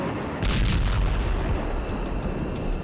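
A deep, rumbling bomb blast effect used in a Russia–Ukraine war news report, a single heavy boom that rolls on and fills the whole clip without any speech.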